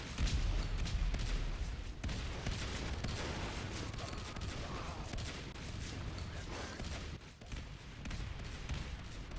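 Shotgun blasts from four Marines fighting a Fade and Skulks in Natural Selection 2, dense overlapping gunfire and booms rattling continuously and loudly through the whole stretch.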